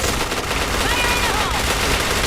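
Gunfire in the online shooter Point Blank, a loud continuous rattle of rapid shots filling the whole stretch, with in-game effects layered underneath.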